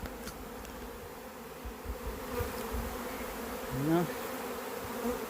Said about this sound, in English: it's just a small cluster of bees